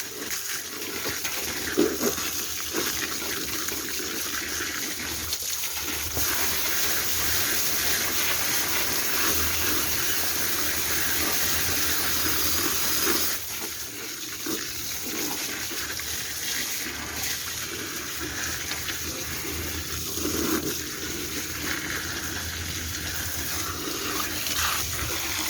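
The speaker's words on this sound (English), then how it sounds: "I'm going to turn this water back on, and I'm going to rinse these out real well." Tap water runs steadily from a faucet while tie-dyed fabric is rinsed beneath it, a continuous close hiss and splash that dips briefly midway and then resumes.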